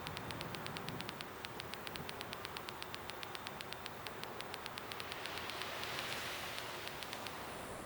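Soft, even rain falls in the video game Fallout 4, a faint hiss of drops with light regular ticking, and no other sound stands out.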